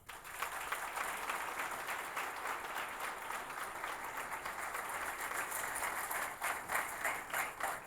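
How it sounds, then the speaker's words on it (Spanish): An audience at a celebration of 64 years of national industry applauds a speaker after a presentation, sustained clapping at moderate distance that swells into uneven bursts toward the end. "agradecemos con un fuertísimo aplauso al señor Despradel por esta valiosa presenta"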